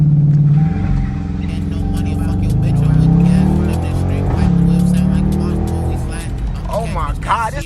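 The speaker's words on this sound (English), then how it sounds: "Hit on the gas." A Dodge Demon 170 roars hard under launch-control acceleration, its engine note rising and surging steadily throughout, loud and close from inside the car, with excited voices talking over it.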